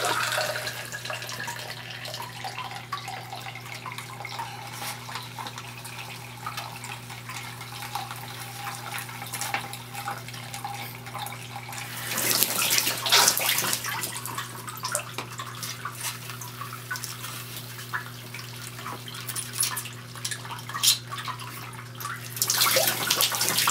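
Bedrock Buster gold recovery suction pump drawing water and material up a tube, a steady watery rush and trickle that surges louder in two bursts partway through and again at the end.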